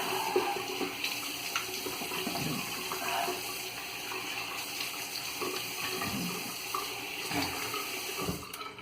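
A tap runs steadily for washing up after a shave, a continuous close hiss of flowing water with faint splashes and clatter, and no voices.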